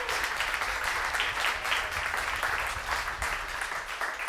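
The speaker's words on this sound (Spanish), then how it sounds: "Si le dan un aplauso al Señor" Throughout, a church congregation at a Sunday service applauds the Lord with steady, full clapping. It is loud and continuous, with a faint murmur of voices beneath.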